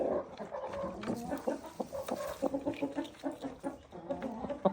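Hens cluck in a backyard chicken coop, a steady run of short, close clucks and squawks from several birds overlapping throughout, with no talk.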